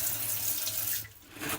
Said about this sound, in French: ici un petit lavabo avec une douche